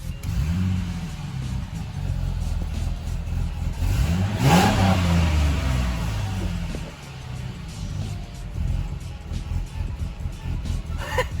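A Ford Mustang engine with a modified camshaft idles with a lumpy, uneven rhythm, then is revved once sharply in the middle before settling back to its choppy idle.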